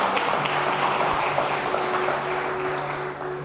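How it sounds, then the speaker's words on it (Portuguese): A church congregation applauds during a Portuguese-language sermon, a dense steady wash of clapping that holds throughout and fades slightly at the end, with a faint hum underneath. "Aplauda Jesus todo o seu coração."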